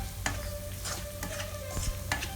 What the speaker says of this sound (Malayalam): മുളക് പൊടി ഇട്ടതിന് ശേഷം 1 മിനിറ്റ് ഒന്ന് ലോ ഫ്ലെയിമിലൊന്ന് ഇളക്കി കൊടുക്കുക